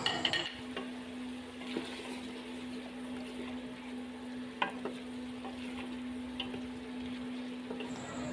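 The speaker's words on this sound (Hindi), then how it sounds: "अब आधा किलो कटे हुए आलू शामिल करेंगे इसमें।" Half a kilo of cut potatoes goes into a pot of cooking mutton curry (aloo gosht) with a steady sizzle, light stirring scrapes and one sharp clunk midway. The sound is close and continuous, with no talking.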